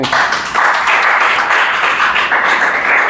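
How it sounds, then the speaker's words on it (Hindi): A class of students claps hands together, a loud, dense and steady burst of many hands close by, continuing for a few seconds with no talk over it. "चलो ताली बजाओ"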